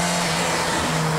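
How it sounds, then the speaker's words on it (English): A little Renault 12 rally car on a night rally revs its engine hard in a steady, loud, close drone that holds for about a second, with no talking. "Lots of revs up the poor little Renault."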